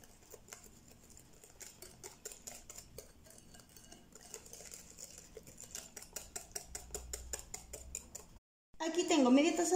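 Spoon stirring vanilla rosca batter with ground cinnamon in a bowl, a close, steady run of quick rhythmic scraping and clinking strokes under quiet talk, then a short pause before louder speech.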